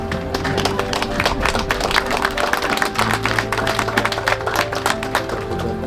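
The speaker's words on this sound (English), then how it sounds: "Yes, you can applaud." An audience applauding at a veterans hospital ceremony, dense steady clapping from many hands, loud and close, continuing throughout with a low murmur underneath.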